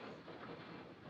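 A steam-era passenger train pulling out of a station in a 1940 film, a faint, muffled low rumble of rolling wheels and carriage noise, steady and distant, with no voices.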